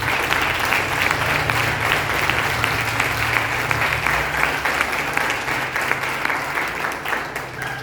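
A church congregation claps steadily through a worship service, a sustained, loud wash of applause close by with a faint low hum of music or voices underneath, easing slightly toward the end.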